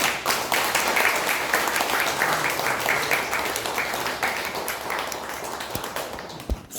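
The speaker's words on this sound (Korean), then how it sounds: "박수 부탁드립니다" An audience at a Korean invited lecture applauds, a dense wash of clapping from many hands that stays fairly steady and slowly thins out toward the end.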